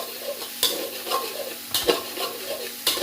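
Minced pork stir-fried dry for pad kra pao, a continuous close sizzle broken by repeated scraping and clanking strokes of a spatula against the pan, with no voices.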